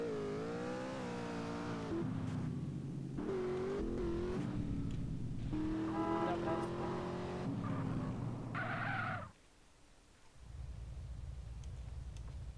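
Car driven fast in the video game GTA San Andreas, a loud engine revving and shifting pitch with tire squeal and skidding, then cutting out abruptly before the motor returns at a lower drone.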